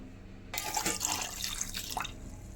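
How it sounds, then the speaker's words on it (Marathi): Water is poured into a gram flour, semolina and sour yogurt batter in a steady splashing stream for about two seconds after a quiet start, close by, with no voices. "आणि थोडं पाणी घालणार आहे"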